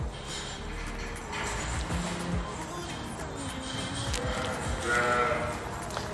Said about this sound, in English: These sheep are so beautiful.